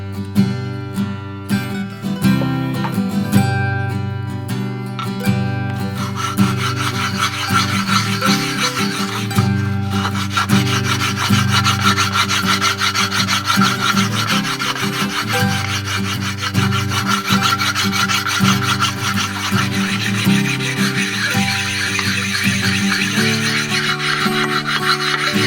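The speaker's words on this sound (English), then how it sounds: "take my sharpening stone and just run it across" A sharpening stone with honing oil is rubbed back and forth across a metal vise, giving a continuous, loud, close rasping scrape in steady rhythmic strokes with no talk.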